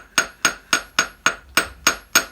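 A hammer strikes a piece of work eight times in an even, steady rhythm, each blow sharp and close with a short ringing decay. No talk is heard.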